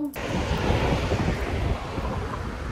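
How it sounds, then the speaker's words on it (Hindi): Strong outdoor wind in Germany on a hot summer day with rain setting in, a loud, steady blustery roar buffeting the microphone throughout, with no talk. "इतनी तेज़ हवा चल रही है।"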